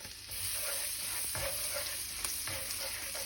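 Garlic fries in a pan for beef salpicao, a constant close sizzle with occasional scraping stirs and light taps of the utensil.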